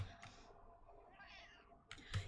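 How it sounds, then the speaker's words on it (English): A cat gives a soft, drawn-out meow, faint and somewhat distant, framed by a few quiet clicks like keyboard taps at the start and end. "That was such a perfect meow."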